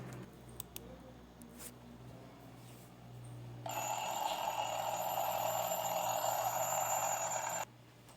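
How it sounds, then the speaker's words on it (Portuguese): An alarm clock rings continuously for about four seconds, a loud bright metallic jangle that starts abruptly and stops just as suddenly. "vocês viram aí o som de um despertador"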